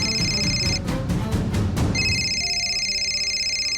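An old, worn-out telephone rings in steady electronic trills, broken by a short burst of noise, then the ringing resumes over a low background hum.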